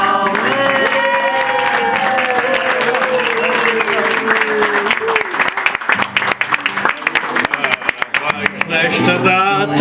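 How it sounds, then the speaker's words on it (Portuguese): Clapping breaks out and grows into a dense patter of hands at a 90th birthday party. It comes over a group singing in celebration and then continues with scattered cheers. "Só menina Inês, uma salva de palmas."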